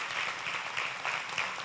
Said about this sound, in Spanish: un aplauso a todos los jóvenes de Antioch que están con nosotros en este día